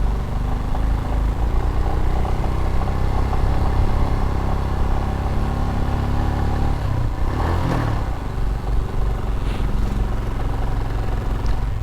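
Motorcycle labouring up a steep uphill road in first gear, a steady close engine drone with a brief clattering burst partway through.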